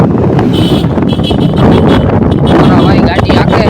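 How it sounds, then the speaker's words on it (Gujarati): Strong wind buffets the microphone outdoors along a road on the way home, a loud constant rumbling roar that dominates, with someone talking through it. "પવન મસ્તીનો આવે છે યાર"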